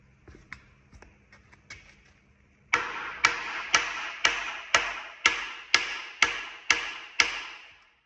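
Heavy hammer blows strike cast iron engine heads mounted on an engine stand, about nine loud, evenly spaced metallic bangs ringing out in a steady rhythm after a few lighter taps.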